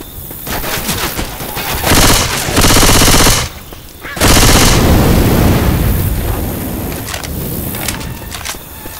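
Loud automatic rifle gunfire in Left 4 Dead 2, long rapid bursts close up that break off abruptly, pause, then resume in sustained rattling volleys before tapering off.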